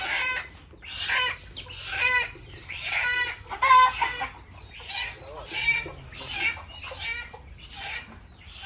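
Native chickens cluck in repeated bursts, several birds calling close by in an uneven rhythm over a low background hum.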